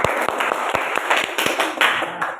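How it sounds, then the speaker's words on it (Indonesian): A classroom group claps hands together, producing a loose, uneven series of sharp close claps and taps, somewhat scattered rather than in unison, with no talking. "tepuk tangan untuk kita semua"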